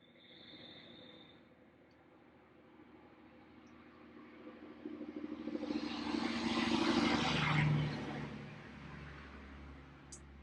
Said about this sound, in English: That was a logging truck.